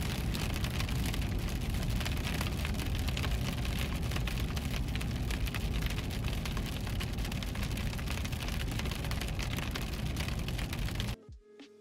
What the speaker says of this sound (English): A little bit of small hail there.